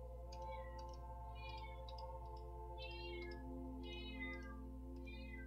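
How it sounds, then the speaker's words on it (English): A cat meows repeatedly in short, faint, plaintive calls over a steady low hum of background music, with no talking. "My cat is just meowing nonstop"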